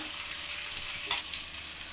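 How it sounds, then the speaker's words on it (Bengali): Paneer kofta balls frying in hot oil, a dense continuous sizzle up close with a faint knock partway through, no speech. "আমার এগুলো লাল লাল করে ভাজা হয়ে গেছে"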